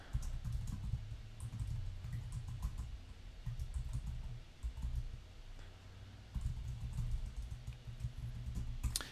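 Someone types a short post on a computer keyboard, producing quick, fairly soft key clicks in uneven bursts over a low background hum, with a brief pause midway.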